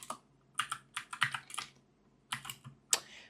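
Short runs of crisp keystrokes on a computer keyboard as a bash command is typed for a bioinformatics script, a few quick clusters separated by a pause, close and clear.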